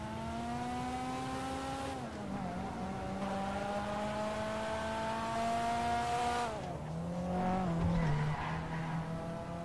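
Engine of a mid-engine Grotti V6 rally car in the GTA 5 game: a steady droning rev that dips and shifts at gear changes, with tyres skidding and squealing through corners, loud and close with no talk.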